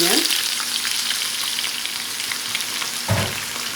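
Raw red shrimp hit a hot pan for shrimp fried rice and set off a loud, close sizzle that settles into a steady crackle, with a brief stirring scrape near the end.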